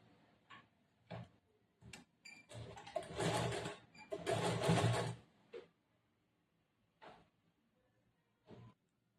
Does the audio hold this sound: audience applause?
no